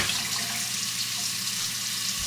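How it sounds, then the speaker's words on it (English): Water runs from a tap into a canner pot for stovetop bone broth, a steady rushing hiss of filling water with no pauses, close and fairly loud, no talking. "now I need to fill it with 3 quarts of water"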